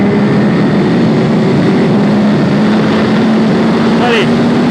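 Ducati SuperSport 950 S from 2021 circling the technical Vallelunga track in Italy, a steady loud engine drone with wind rush holding throughout, no clear shifts.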